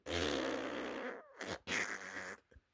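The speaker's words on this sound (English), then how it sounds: "I didn't expect baby to fart" A loud, close, sputtering cartoon fart sound effect from a game plays in two bursts, the first long and buzzing and the second shorter with a brief tail.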